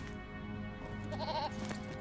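A goat mount bleats in the online game The Lord of the Rings Online, one wavering mid-pitched bleat rising over a steady low game background.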